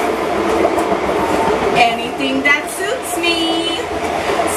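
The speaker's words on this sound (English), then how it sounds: "The sound you are hearing is the train, because I live close to the subway." A subway train rolls past close by above ground near a home, a loud continuous rumble with rail rattling and a few high squealing tones, while someone talks over it.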